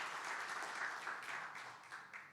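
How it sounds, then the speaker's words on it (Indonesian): A church congregation claps at an Easter worship service, a soft, distant wash of steady applause with no voices over it. "Sekali lagi berikan tepuk tangan yang paling meriah."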